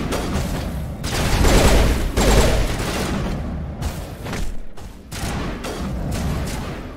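Sustained gunfire from the Mass Effect video game, dense rapid bursts of shots with heavy booming low end rolling continuously for several seconds, loud and close with brief gaps between volleys.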